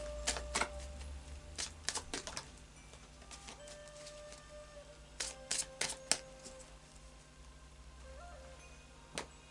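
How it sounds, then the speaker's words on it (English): Oracle of Visions cards are shuffled by hand, soft papery riffles and sharp taps in irregular bursts, close and quiet. "just do a final shuffle now of the Oracle of Visions"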